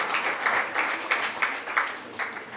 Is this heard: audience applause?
yes